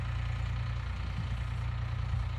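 A tractor engine idles close by, a steady low chugging rumble with an even pulse and no other sounds.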